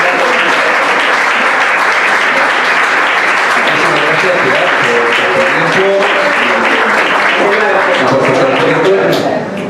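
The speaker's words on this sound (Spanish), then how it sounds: "de nuevo se merece la profesora Martínez García un sonoro aplauso" Loud, sustained audience applause closes a university science talk, with dense clapping filling the room and crowd voices murmuring beneath it throughout.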